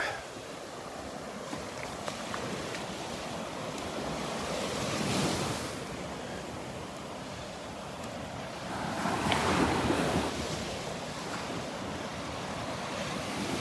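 Ocean surf roars steadily with waves swelling and crashing on the shore at Delnor-Wiggins beach twice, mixed with wind buffeting the microphone; no one speaks.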